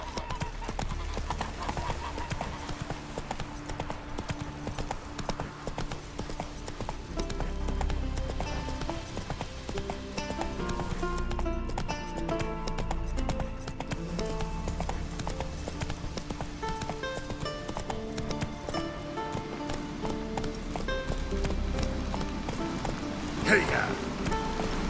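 Roach, the horse in The Witcher 3 video game, gallops with a steady rhythmic clip-clop of hooves under light rain-like patter. Game music and occasional voices play alongside.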